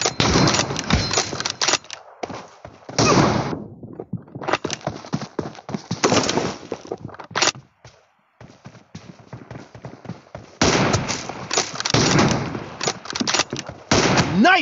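Gunfire rattles in PlayerUnknown's Battlegrounds (PUBG), coming in sharp, rapid bursts separated by brief quiet gaps, loud and close.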